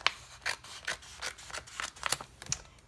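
Scissors cutting a scrap piece of crafting paper or cardstock for a Cricut layering project: a series of short, crisp snips and rasps, about six or seven in under three seconds, close and fairly quiet.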